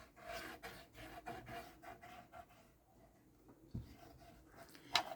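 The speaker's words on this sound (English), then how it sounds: "Just take the lid off your bottle and rub it right in" Glue rubbed by hand into a wooden witch's hat decoration, a quiet, repeated scratchy rubbing in short strokes, then a pause and a sharper knock near the end.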